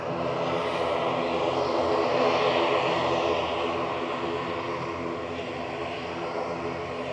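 Aurigny flight 671 to Guernsey passes at Manchester Airport, a broad propeller-engine roar that swells slightly and then holds steady as it moves by at moderate distance.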